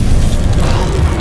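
Incendio fire spell in Hogwarts Legacy on PC, a heavy booming burst of flame with a thick low rumble, loud and close, holding steady through the short moment.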